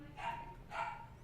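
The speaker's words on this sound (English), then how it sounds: "my dog is just, as she gets older, she gets a little more senile and just barks for what seems like hours" An aging, senile pet dog barks twice, muffled and faint in the background, a short pause between the two barks over low room noise.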